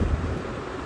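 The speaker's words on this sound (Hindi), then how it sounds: "अभी ठंडी ठंडी हवा चल रही है" Cool wind blowing outdoors along a street lined with showrooms, heard as a steady, loud broadband rush buffeting the microphone for under a second, with no voices.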